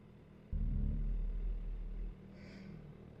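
A 2023 Suzuki Hayabusa motorcycle accelerating, its deep engine rumble surging loudly and close for about a second and a half before easing back to a steadier drone.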